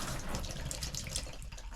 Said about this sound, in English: Not even fully open, and we're getting tons of water out of there.